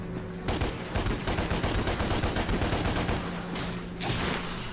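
Gunfire in DmC: Devil May Cry, a fast sustained burst of loud shots rattling close by, briefly dropping out before a final short volley.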